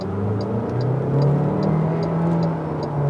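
An MG HS plug-in hybrid SUV accelerates from inside the cabin, its engine drone rising in pitch through a gear change. Steady road rumble sits underneath, with a faint regular ticking throughout and no talking.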